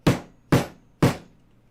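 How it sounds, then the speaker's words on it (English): Three sharp, evenly spaced knocks of a mallet striking wood, each ringing briefly before the next, close and fairly loud, during battery pack assembly at night. "I probably shouldn't be hammering too loudly."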